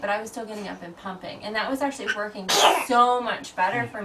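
A single sharp sneeze bursts out midway through a relaxed conversation between parents about nighttime baby feeding and pumping, with talking continuing before and after it.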